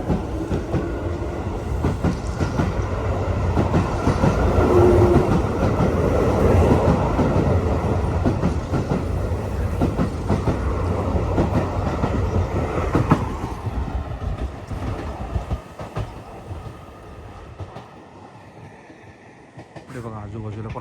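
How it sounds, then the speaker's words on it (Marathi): A green train painted with a mountain picture and a Mount Takao sign rolls along rails near Takao Station in Tokyo, giving a steady close rumble and clatter that eases off toward the end while a voice talks over it. "एकदम ग्रीन ट्रेन आहे आणि ह्याच्यावर माउंटनचं चित्र आहे"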